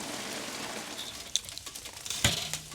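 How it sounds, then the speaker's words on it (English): Rain falls steadily outdoors during a cookout making smoked chicken quesadillas, a dense even patter with a few sharper drops and clicks near the end. "The rain came down on us, y'all."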